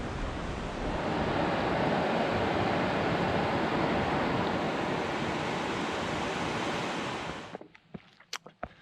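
The River Tay in Scotland, flowing water heard as a loud, dense, steady rush near at hand that cuts off abruptly near the end, leaving a few faint clicks and knocks.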